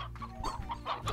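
A chicken in the video game Slime Rancher gives a few short, quiet clucks in quick succession.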